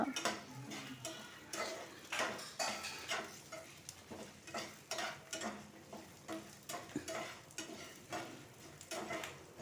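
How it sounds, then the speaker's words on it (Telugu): Food frying in a pan is stirred with a utensil, giving a faint sizzle under a regular series of scraping, clinking strokes about once a second. "ఇక వేగుతున్నది, శుభ్రంగా వేగింది, చూపిస్తాను ఉండండి."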